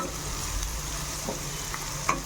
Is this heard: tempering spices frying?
yes